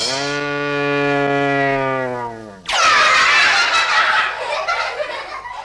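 A single long, low moo like a cow's, apparently voiced by a person imitating it, lasts over two seconds and is followed by a burst of loud snickering laughter.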